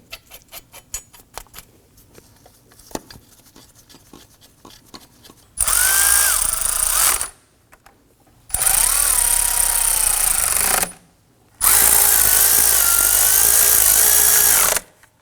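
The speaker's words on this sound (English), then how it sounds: "you can use your impact driver to go ahead and run those in" An impact driver runs bolts into the serpentine belt tensioner on a 2003-2014 Volvo XC90 in three loud, whining bursts, each lasting a couple of seconds, close up. Softer clicks and handling noises come before them.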